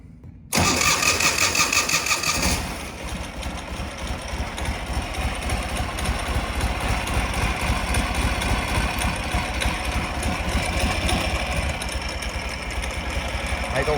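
A 2004 Ural Tourist motorcycle, cold and in neutral with the choke out, cranks briefly, catches and settles into a steady rhythmic idle with a pulsing low thump, close and loud, with faint talk underneath.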